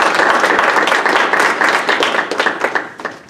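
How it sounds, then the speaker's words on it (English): An audience's round of applause for a speaker at a university event, loud and close, dense at first and then thinning into fewer, distinct individual claps as it dies away. "Let's give him a round of applause"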